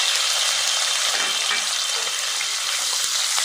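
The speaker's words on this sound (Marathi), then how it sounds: "हा कांदा लाल होईपर्यंत परतून घ्यायचा आहे" Sliced onion frying in hot ghee with cumin seeds in a pan, giving a continuous dense, close sizzle with small crackles throughout and no talk.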